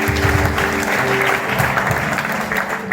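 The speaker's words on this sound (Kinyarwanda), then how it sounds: "mubambere amashyi menshi cyane." Church audience applauding at a youth gathering at Restoration church, a dense, steady wash of clapping that stays loud and continuous for the full three seconds, with a faint hum of voices underneath.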